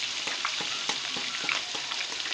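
Fish fillets fry in oil in a pan for masala fish fry, a continuous close crackling sizzle with light taps and scrapes now and then.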